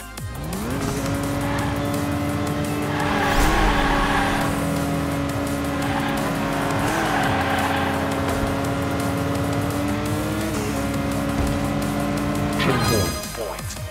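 A toy-style race car drifting in the Hot Wheels Unleashed video game on PS5: a steady, loud engine whine with changing pitch and rising, sliding tire squeal, all continuous for about thirteen seconds, game music or effects behind it.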